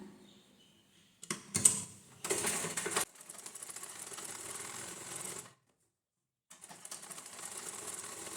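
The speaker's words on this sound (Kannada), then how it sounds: "ನೋಡಿ ಇವಾಗ ಇನ್ನೊಂದು ಸ್ಟಿಚ್ ಕೊಡೋಣ." A sewing machine stitches a blouse sleeve in short close bursts of rapid mechanical whirring, stopping and starting with a brief silent pause before running again.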